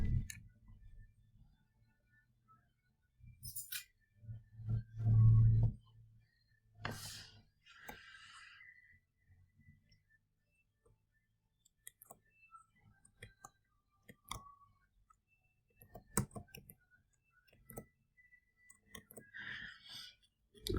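Laptop keyboard keys are pressed in scattered, irregular clicks and taps, close and fairly quiet, with a few louder thumps and long quiet gaps in between.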